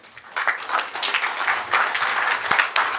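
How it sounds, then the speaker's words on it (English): Audience applause at a hotel seminar award ceremony honouring a lifetime achievement recipient, a short burst of many hands clapping together, fairly loud and steady for a few seconds. "A big round of applause, please, for Mr. Ashok Goklani"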